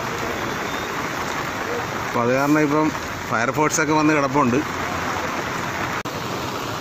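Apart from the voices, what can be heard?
heavy rain falling near a bridge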